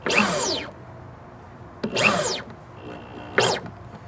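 Power drill countersinking a screw hole in wood, three short whining bursts that spin up and cut off, each lasting about half a second, close and fairly loud with quiet gaps between.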